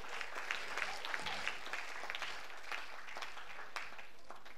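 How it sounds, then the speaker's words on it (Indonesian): Quiet, steady applause from an audience after a presentation and Q&A session, even clapping with a few sharper claps, heard from some distance. "Sekali lagi tepuk tangan untuk kita semua."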